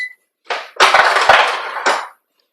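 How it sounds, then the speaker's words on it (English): Ice cubes fetched for a Peruvian ceviche sauce clink and rattle against a glass or container in a few close, sharp bursts, with short pauses between them and no talking. "So I'm going to step out and get a couple of ice cubes."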